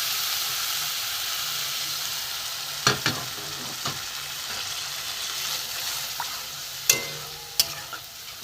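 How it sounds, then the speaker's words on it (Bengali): Coconut milk goes into hot oil for a katla fish curry, giving a steady soft sizzle throughout, with a few sharp clinks and scrapes of stirring scattered across it. "এতে আমি অল্প করে নারকেলের দুধ দিয়ে দেবো।"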